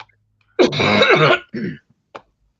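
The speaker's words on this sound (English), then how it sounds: "Sorry, I'm still coughing." A person nearby coughs and clears their throat: one long rasping hack, then a shorter one, ending in a faint catch.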